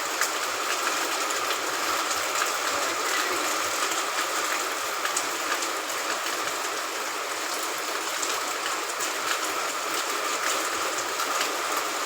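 Heavy rain falls steadily outdoors in a village setting, a dense, even hiss that holds constant for the whole stretch with no voices over it.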